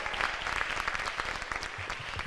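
Audience at a Sherman High School Homecoming Revue breaks into sustained, dense clapping, moderately loud and steady throughout.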